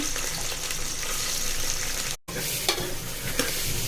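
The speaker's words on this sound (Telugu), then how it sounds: "ఆయిల్ వేగింది. ఆనియన్స్ పచ్చిమిర్చి వేసుకుంటున్నాను." Chopped onions and green chilies fry in hot oil for a mutton curry, a dense steady sizzle close up with a few stirring scrapes and one brief dropout midway.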